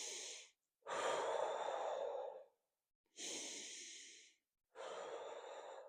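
Deep, slow breaths during a yoga session, heard as three or four long airy inhales and exhales close to the mic with short silent gaps between them.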